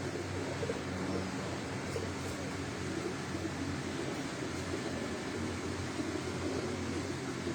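Pigeons in a rooftop loft coo softly, low murmuring calls under a steady hiss of background noise.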